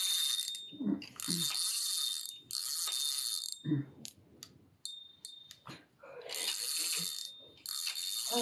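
An old fishing reel being prepared for catfish fishing, its ratchet clicking in long rapid bursts separated by short pauses, close up and fairly loud, with no talking over it.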